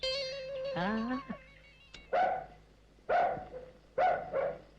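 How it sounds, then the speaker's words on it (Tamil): Dog barks three times in short bursts, fairly close, in a Tamil film scene, following a stretch of voices and other sound at the start. "நாய் தான் குலைக்குது"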